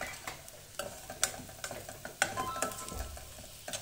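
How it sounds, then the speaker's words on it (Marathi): Onion frying in a pan with turmeric for Kolhapuri misal, a soft sizzle under repeated scraping stirs of a spoon, quiet and close. "कांदा थोडा मऊ झाल्यानंतर त्याच्यामध्ये आपण थोडीशी हळद घालून घेणार आहोत."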